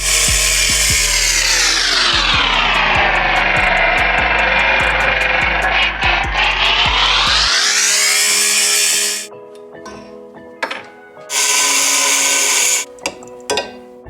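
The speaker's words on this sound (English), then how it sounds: "with an angle grinder we're going to cut off this hook and this welded nut" An angle grinder cuts off a steel hook and a welded nut from a Miata seat bracket. The loud, close whine rises and falls in pitch as it bites into the metal, then cuts out. Shorter bursts and clanks follow.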